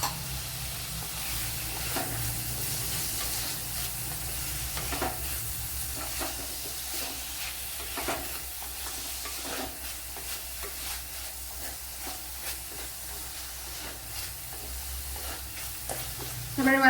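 A large tomato is added to half-cooked shallots frying in a pan for a tuna fish curry, giving a soft, steady sizzle with repeated scraping stirs, moderately quiet and close.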